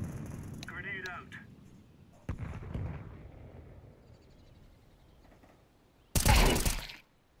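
A grenade explodes in Counter-Strike 2, a single short, loud burst late in the clip after quieter game sounds and brief thuds, ending in a sudden fade.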